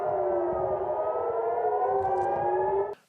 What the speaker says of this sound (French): les sirènes d'alerte ordonnent aux habitants de rentrer chez eux